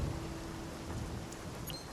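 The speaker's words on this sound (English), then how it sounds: "Yep, then it's gonna thunder for a brief moment here." Steady rain hisses in the video game Spiritfarer under a low thunder rumble, a continuous and fairly even wash of sound with a few faint bright ticks.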